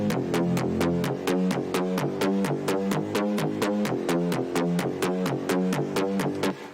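A synth patch named Old School from a Hardstyle Spire pack pulses in a fast, even rhythm: bright, buzzy chord stabs repeat steadily at constant loudness, with no voices.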